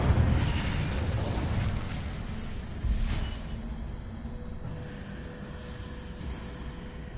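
A fiery Incendio spell erupts in Hogwarts Legacy, a loud rushing blast with a second boom a few seconds in, then a lingering rumble that gradually dies away.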